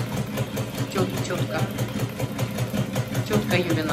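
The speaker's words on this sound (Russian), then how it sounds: "Швея-мотористка в работе." An electric sewing machine runs steadily at a fast, even stitching rhythm, loud and close, with a voice talking over it.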